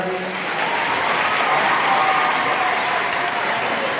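An audience breaks into loud, sustained applause at a welcome ceremony organized by a youth group, dense clapping that swells slightly and holds for several seconds.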